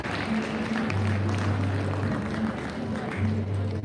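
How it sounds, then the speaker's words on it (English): An audience at a school prize-giving ceremony claps in a dense, steady wash of applause, with a low steady hum running underneath. "Let's give a huge round of applause for her."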